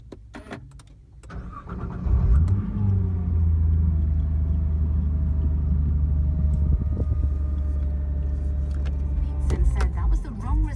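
2016 Nissan Nismo N-Attack GT-R still being run in, its engine starting and settling into a deep, steady idle rumble, heard close with light blips as it is driven gently, with talk around it.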